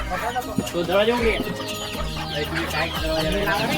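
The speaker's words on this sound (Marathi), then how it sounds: "अडल्ट जे कोंबड्या आहेत जे अंडे देणाऱ्या कोंबड्या आहेत" Several laying hens cluck and murmur nearby in a small shed, in an irregular, chattering rhythm, with a person talking over them.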